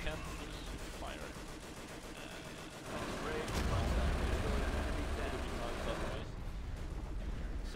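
Sustained gunfire and explosions in the World War II strategy game Company of Heroes, a dense continuous barrage with a heavy low rumble swelling midway, loud and busy throughout.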